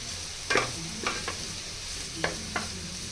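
Cauliflower pieces fry in a pan for vegetable egg noodles: a steady low sizzle runs throughout, broken by a few sharp scraping stirs, close and moderately quiet.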